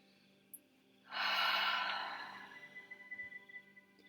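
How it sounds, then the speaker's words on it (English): A slow, deep inhaled breath, soft and close, swelling over about a second and a half before gently tapering off, with quiet breathy traces trailing behind it and no talk. "take a nice deep breath here"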